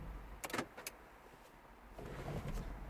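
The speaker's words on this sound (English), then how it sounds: "I'm going to lock the car." Porsche Boxster S 986 central locking engaging, a few short sharp mechanical clunks and whirs close by over faint background noise.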